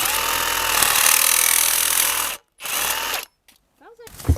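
A power tool cuts metal outdoors, a loud harsh whining grind lasting about two seconds, then a shorter burst after a pause, followed by silence and a brief faint voice at the end.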